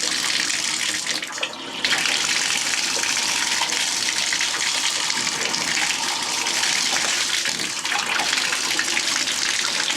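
Water gushes steadily from a faucet in a house just brought back from winterization on well-pump water, a loud continuous close-up rush with a brief dip early on.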